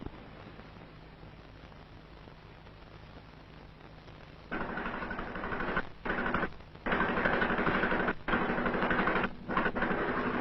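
A small motor pump on farmland drones steadily, then runs louder and harsher, cutting out briefly several times before restarting.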